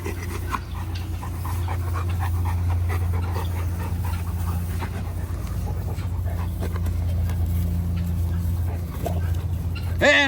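A puppy named Bruno pants steadily and close by on freshly mowed grass outdoors, a continuous quick breathing rhythm over a low background hum, with a short whimpering rise at the very end.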